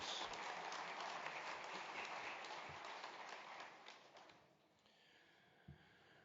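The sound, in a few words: audience round of applause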